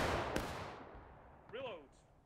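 A musket volley goes off in the Civil War video game War of Rights as a sharp, loud crack that rolls away into a fading rumble, followed by brief voices.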